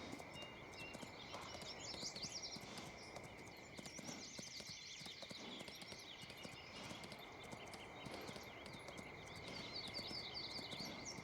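Horse hooves clip-clop steadily on the ground in the Farming Simulator 19 video game, a quiet even walking rhythm running throughout over a steady background tone and faint bird chirps.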